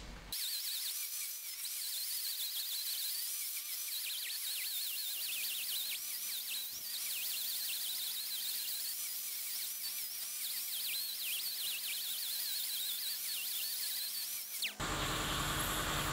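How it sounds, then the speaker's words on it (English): Handheld grinder smoothing metal roll bar brackets for a 1960–66 GMC/C10 firewall, making a steady high whine with a warbling pitch that runs for about fifteen seconds before cutting off abruptly. "So I'm just gonna soften them real quick with a grinder"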